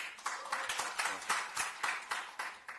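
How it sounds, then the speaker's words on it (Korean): An audience at a Rebuilding Korea Party proportional-representation candidate presentation claps in a quiet, steady, rhythmic beat of about a dozen distinct claps. "박수 부탁드립니다."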